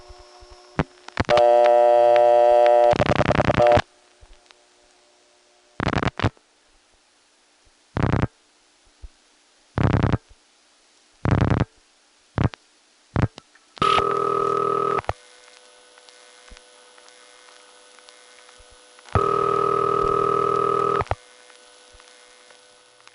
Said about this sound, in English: So as we dial the last 5 digits here, there won't be any extra clicks.